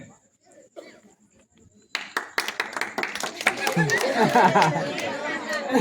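An audience at a village magic show bursts into quick, lively hand clapping after a quiet start, with crowd chatter mixed into the applause.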